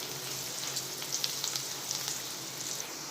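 Garlic sautéing in oil over a medium flame while Chinese veg fried rice is being made gives off a steady, soft crackling sizzle with small bright pops scattered throughout, and no one talks.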